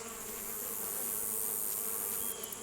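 Honey bees buzz at an open beehive during an inspection, a dense, steady drone close by that holds level throughout with no voices.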